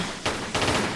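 Enemy gunfire in a Tomb Raider custom level: two quick bursts of dense, rattling shots in a noisy game soundscape, moderately loud, with no talk.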